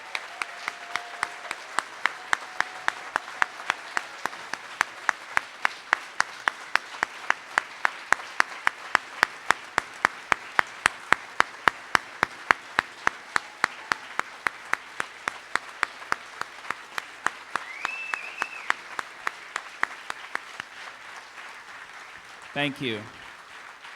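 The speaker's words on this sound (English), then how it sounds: "Please give a round of applause to Jordan's family who are here" An audience applauds steadily for a long stretch, with distinct rhythmic clapping throughout, and a brief spoken word near the end.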